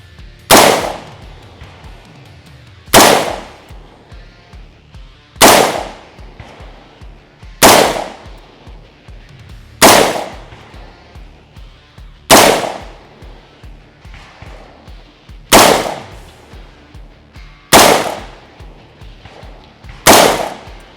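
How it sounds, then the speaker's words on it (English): A PSA Sabre forged 13.7-inch quad-rail AR rifle fires nine loud, sharp shots at an outdoor range, evenly spaced about two and a half seconds apart, each crack followed by a short decaying echo. "So gave it a lot of shots there"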